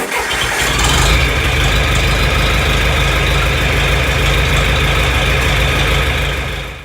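A John Deere 3020 tractor engine idles while warming up before an oil change, a loud, steady diesel rumble close by that holds constant for several seconds and then drops away at the end, with no talking.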